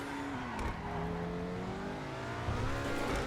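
Obey 10F sports car, modeled on the Audi R8, accelerating in GTA Online, a steady engine roar with rising tones and a brief shift partway through, continuous and fairly loud with no talking.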